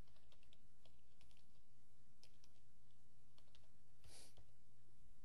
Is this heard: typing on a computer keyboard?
yes